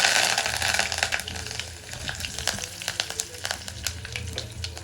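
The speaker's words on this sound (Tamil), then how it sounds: "இப்போ கடுகு ஓரளவு வெடிச்சிருச்சு. நான் அந்த கருவேப்பிலையை" Curry leaves dropped into hot oil with popped mustard seeds and asafoetida in a pan: a loud burst of sizzling that settles into steady crackling frying with sharp pops scattered throughout, close up.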